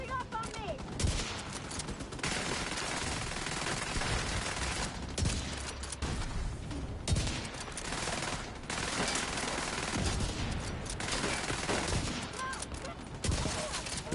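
Sustained automatic gunfire in the online shooter The Division 2, near and relentless bursts with brief gaps, layered under a player talking.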